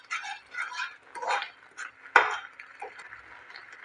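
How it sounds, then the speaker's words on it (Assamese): Grated coconut and sugar being stirred in a pan for coconut peda: a spoon scrapes and knocks against the metal in uneven, repeated strokes, with a few sharper clinks, close and moderately loud, with no talking. "নাৰিকলখিনি মই চেনি দি ভালদৰে এইদৰে লৰাই থাকিম, নহ'লে তলত লাগি ধৰিব।"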